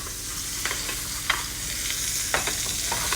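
Meat searing in a hot pan, a loud, constant close sizzle with a few sharp scrapes from the spatula.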